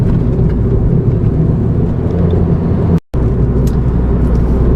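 A 2013 MINI John Cooper Works Roadster driven fast on a rough, curvy road gives a loud, steady engine and road roar that holds throughout, broken only by a brief dropout near the end.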